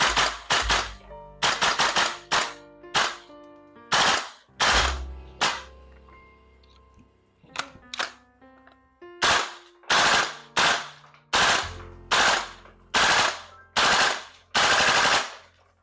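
A VFC KAC L403A1 gas blowback airsoft rifle fires loud, snappy bursts and single shots close by. The bursts come at a steady rate, separated by brief pauses, and no one speaks.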